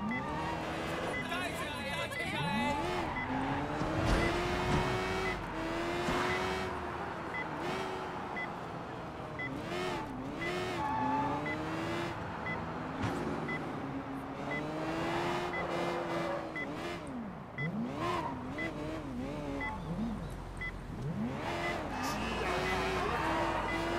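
A stolen car or motorbike driving in the video game Sleeping Dogs, engine revving and shifting pitch repeatedly through sustained driving, with beeping and a person talking over it.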